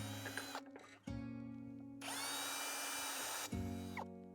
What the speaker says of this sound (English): The pre-drilling just keeps the wood from cracking.